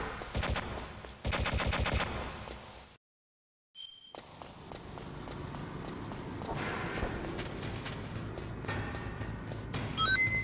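Gunfire in the video game Metal Gear Solid: bursts of rapid automatic fire broken by a brief silence, then sparser shots and metallic clatter over steady game ambience, with no talk.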